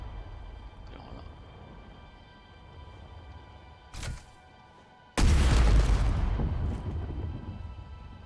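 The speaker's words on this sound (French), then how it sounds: "Et je vais vous montrer comment ça explose avec ça." An explosion in the video game Space Engineers: a short dull thump comes first, then a sudden loud booming blast that rumbles and slowly fades over the last few seconds.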